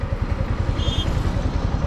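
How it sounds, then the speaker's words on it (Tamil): A Yamaha MT15 150cc motorcycle, stopped, idles at about 1100 RPM in a steady, close, pulsing low putter with light mechanical clatter and a brief high whine midway. "பைக்கை நிப்பாட்டிட்டேன். Moving RPM 1100 RPM."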